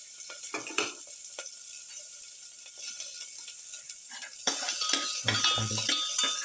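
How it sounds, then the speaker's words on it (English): Chopped shallot sautéing in a hot pan, a steady sizzle broken by scraping and clinking of a utensil stirring, growing busier toward the end. "Saute."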